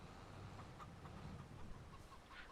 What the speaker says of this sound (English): them chickens are crazy about something